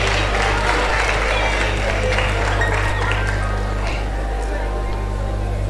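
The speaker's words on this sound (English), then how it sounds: "A round of applause for her." Audience clapping at a food science and technology induction ceremony, a sustained broadband patter of applause filling the room at steady loudness, with low hum underneath.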